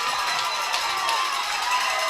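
A crowd at a high school regional semi-final baseball game cheers and shouts steadily after a run scores on a sacrifice RBI, a continuous roar of many voices at moderate distance.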